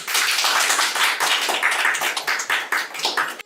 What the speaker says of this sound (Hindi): आज से ये रहे हमारे नए शिक्षा मंत्री, बजाओ ताली।